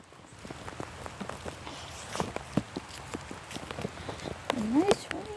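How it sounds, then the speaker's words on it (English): Light rain patters steadily in the background on a wet day, with soft nearby footsteps and scattered taps over it, and a short voice-like sound near the end. "a nice rainy day"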